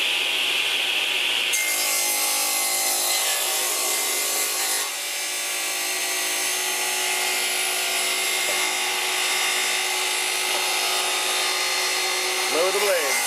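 A saw cuts through wood pieces for a rear heater box in a school bus conversion, a steady rasping rub that runs continuously and changes pitch partway through, with no talk over it.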